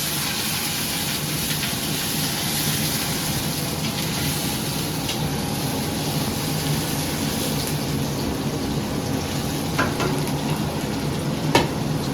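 A tadka of browned onions crackles for mung masoor dal cooked on a traditional hearth, a steady, close, broadband sizzle with a couple of faint clicks near the end.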